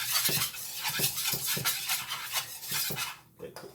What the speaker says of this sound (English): we're gonna go ahead and put some diced tomatoes over here. We're gonna stir over here.